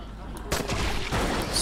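Gunfire in the video game Dying Light comes as a couple of loud, close bursts with a roomy decay, layered over game ambience.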